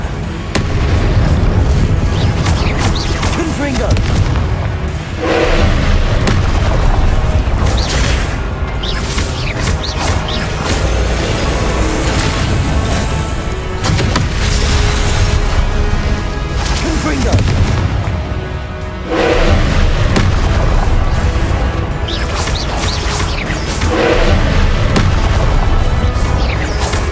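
Repeated Confringo blasting spells in Hogwarts Legacy, heard as dense, loud, continuous rumbling booms and crashes layered over one another with no pause, alongside other spell bursts.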